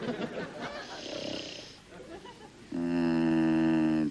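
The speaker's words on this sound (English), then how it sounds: "He snores." A man snoring in a comedy scene, a rough breathy rasp that turns into a loud, steady droning tone near the end, heard up close and alone.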